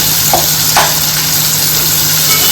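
Chopped onion and tomato sizzle and fry in a pan for a fish bhujane dish, a steady loud hiss with a couple of brief stirring crackles.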